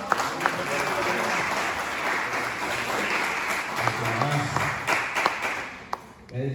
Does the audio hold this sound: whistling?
no